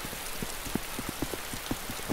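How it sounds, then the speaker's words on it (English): Steady hiss of rain falling in the survival game DayZ, with scattered soft drop-like ticks across a wide, even wash of noise, fairly quiet and with no voices. "I won't be able to hear him coming with this rain"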